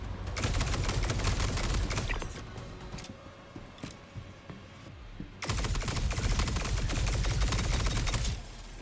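A Volt energy pistol in Star Citizen fires in long, rapid strings of crackling shots, loud and close, with a quieter gap in the middle before another sustained burst, no talking.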